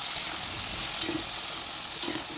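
Food seasoned with salt and turmeric sizzles in a pan, a constant soft frying hiss broken by two light stirring scrapes about a second apart.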